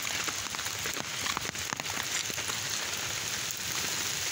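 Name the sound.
continuous rain falling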